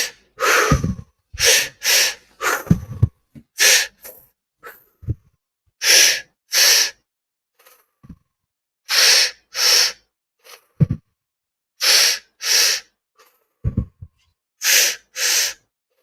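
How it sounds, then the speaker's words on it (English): Slow, deep breaths come one after another during a guided relaxation session, each inhale or exhale a distinct, airy burst separated by near silence, close and clear. "Just keep breathing."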